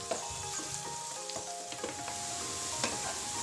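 Onion sautéing in a hot pan after green chillies were added, a steady sizzle and fry with occasional stirring clinks, close and continuous.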